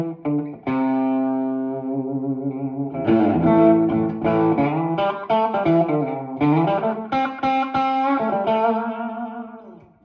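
Guitar played through an Octopus pedal set to slapback delay, with reverb for a country tone. Picked notes and chords ring out clearly, each one followed by a short echo, loud and alone with no talking.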